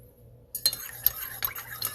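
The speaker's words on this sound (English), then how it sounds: "Oh my God, I didn't stir my coffee." A spoon clinks and taps against a coffee cup as sugar is stirred in, a quiet start followed by a run of close, bright clinks.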